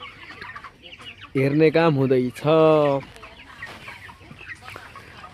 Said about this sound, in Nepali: हेर्नु होला कुखुरालाई